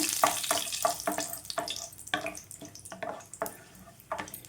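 Whole cloves, cinnamon and cardamom crackle in hot oil as a spoon stirs them in quick repeated strokes, giving close, busy sizzling with light scraping taps and no speech.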